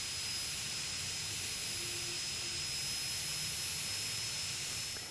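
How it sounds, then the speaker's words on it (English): Cooling fan of a Walksnail Avatar GT2 2-watt long-range FPV video system, powered up, giving a steady whirring hiss with a thin high whine, constant and fairly faint throughout. "The fan is pretty loud."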